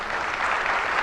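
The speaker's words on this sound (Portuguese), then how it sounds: "O aplauso é para você em primeiro lugar." Audience applause at a religious gathering: dense, steady clapping from a crowd, loud and sustained throughout the short moment.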